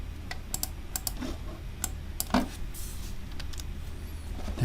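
Computer keys tapped in short separate strokes while someone works in a Python OPC UA client program, a few sharp clicks spread over several seconds and heard close over quiet room hiss.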